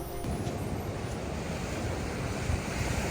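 Ocean surf washes onto a beach at high tide on Siargao Island, a loud, continuous rush of waves with wind buffeting the microphone and no talking.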